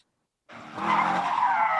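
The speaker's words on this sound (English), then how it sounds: "Revving engines and screeching tires." Car tires screech on an acre of asphalt skid pad built for donuts and spinouts, with engines revving. After a brief silence a loud, close squeal starts and holds steady.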